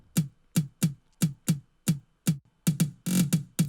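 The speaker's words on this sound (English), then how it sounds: "the tom sounds like this" A programmed amapiano tom drum in FL Studio plays a pattern of about a dozen punchy, low hits, evenly spaced, then a quick cluster of fills near the end.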